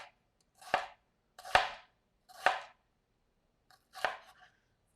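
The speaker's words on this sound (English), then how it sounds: "you're just going to make thin little slices straight down from the top of the onion to the bottom" A knife slices thinly straight down through an onion on a cutting board, four crisp, separate chops spaced about a second apart, close and clear with no talking.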